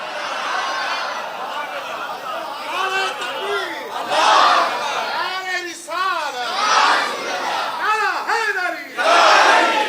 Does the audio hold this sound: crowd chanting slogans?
yes